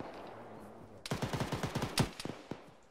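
Rapid burst of tank gunfire in a combat video game, a quick series of loud, sharp reports about a dozen shots long, then a few scattered trailing blasts.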